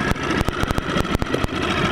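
A small Parsun F5 BMS outboard boat motor runs close by, a steady mid-pitched engine drone broken by repeated sharp knocking pulses throughout.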